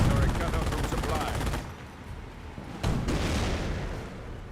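Grenadiers firing in the game Company of Heroes: dense, rattling bursts of rifle and machine-gun fire with booming impacts, a brief lull, then another loud burst continuing to the end.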